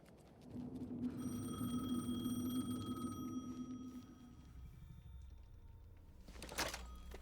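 Telephone ringing in the video game Alan Wake 2, a sustained electronic tone with a low buzzing hum beneath it that fades after a few seconds, followed by a short burst of noise near the end.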